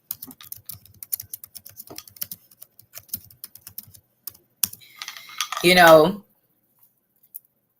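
Keys on a computer keyboard click in an irregular run of light, close taps, then a brief burst of voice follows and the typing stops.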